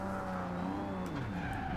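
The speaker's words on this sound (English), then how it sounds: "Wow, a lot of wheel spin, and I mean a lot of wheel spin." Nissan Skyline 2000GTR in Forza Horizon 2 spinning its wheels through a drift, a continuous loud engine drone with rising and falling pitch and a layer of tire squeal throughout.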